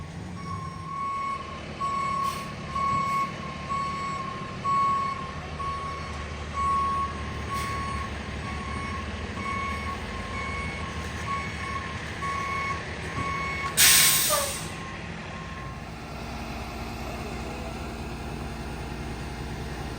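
A bucket truck backs into a residential driveway, its reversing alarm beeping in a steady, evenly spaced series over a low engine rumble, with a sharp air-brake hiss partway through and no talking.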